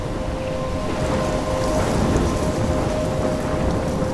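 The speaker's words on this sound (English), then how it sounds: "I'm trapped in a storm?" Heavy rain and a thunderstorm in Life is Strange, a dense, loud, unbroken wash of downpour with low rumbling thunder rolling underneath and a faint steady tone running through.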